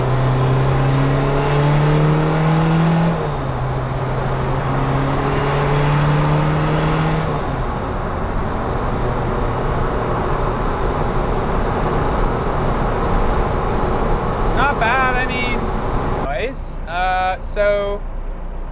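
A car with a 1.6L turbodiesel engine drives steadily in third gear with the radiator set up for little airflow, making a loud, continuous engine drone that holds throughout, with someone talking over it and a brief shift in pitch near the end.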